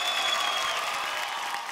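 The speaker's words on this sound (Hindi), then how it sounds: "जोरदार तालियां हो जाए इन लोगों के।" A studio audience applauds dancers on a televised dance competition stage, a steady wash of many clapping hands, even and sustained from start to finish.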